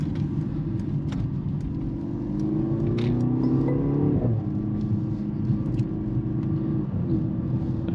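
A 2024 Mercedes-AMG GLC 43 Coupe driven in Sport Plus mode around a corner gives a steady, close engine rumble with a brief rise in revs midway, heard from inside without talk.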